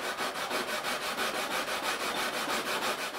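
Close, steady back-and-forth rasping of a sanding stick worked along a wooden wing of a Great Planes Trainer 60 model airplane, a fast even rhythm of strokes with no talking.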